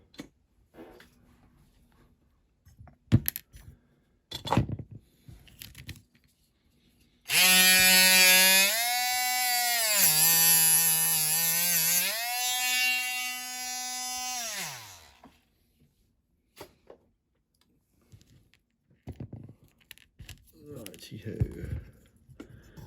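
A small power tool cuts a piece off a Dinky Toys die-cast Cadillac ambulance hearse being converted into a banger racing car: a loud, steady high whine lasts about eight seconds with shifting pitch, framed by quiet handling clicks and knocks.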